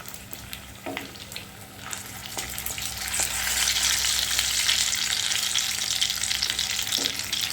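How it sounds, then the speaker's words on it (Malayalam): Egg puffs frying in a pan, a close, even sizzle that grows louder partway through, with a few faint taps and clicks, no voices. "ഇതുപോലെ ഈ സൈഡും നല്ലതുപോലെ ഫ്രൈ ആയിട്ട് ആവുന്നത് വരെ വെയിറ്റ് ചെയ്യുക"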